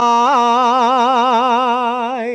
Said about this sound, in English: It's the sound of appliance or laundry dragon when it's summoning